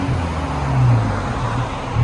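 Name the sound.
2012 Audi A4 2.0L turbo exhaust, resonator delete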